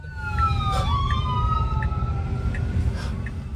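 An ambulance siren wails and sweeps in pitch as it passes a robotaxi on the street, steady and fairly close over constant traffic rumble.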